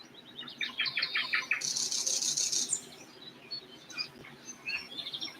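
Small birds chirp and tweet at a backyard feeder on a quiet morning, with rapid repeated calls, a bright burst of trilling and scattered softer notes close by.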